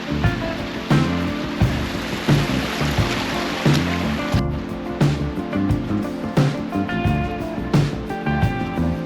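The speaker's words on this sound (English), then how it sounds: "There's the ocean." Ocean waves heard from a ridge on the Dipsea Trail, a steady close wash of surf with repeated swells rising and falling over about nine seconds, with no talk.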